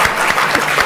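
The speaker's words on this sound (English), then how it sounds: "I expected a bit more applause for that." Brief, steady clapping from an audience at a local authority launch event, close and fairly loud for under a second with no voices over it.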